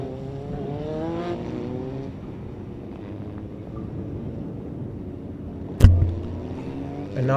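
Formula V single-seater race cars pass on track, engine notes rising and fading, then a sharp loud thump and rumble near the end, all with wind noise.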